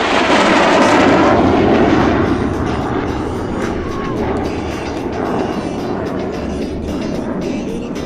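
A MiG-17F jet with afterburner lit roars loudly at a California air show, a sustained broadband rumble that peaks early then holds steady as the aircraft passes.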